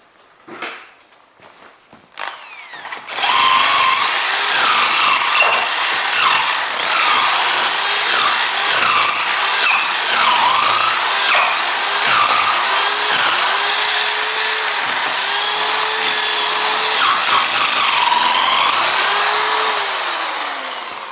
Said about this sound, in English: I continue to drill away all of these materials in here